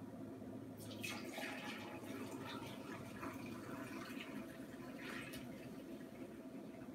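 Chicken broth poured into a measuring cup in a home kitchen, a steady liquid splash and gurgle running continuously at close range for several seconds, with no talking.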